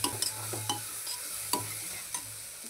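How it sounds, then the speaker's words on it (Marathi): Spoon stirring red chilli and garam masala into khichdi in a pan, with a few sharp scrapes against the metal over a soft sizzle. "आता आपल्याला सगळे मसाले मिक्स करून घ्यायचे आहे"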